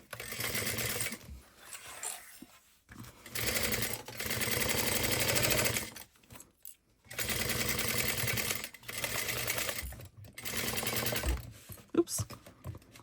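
A sewing machine basting a mini convertible crossbody bag at a long 5 stitch length runs in several short bursts of rapid, even clatter separated by brief pauses, close and fairly quiet.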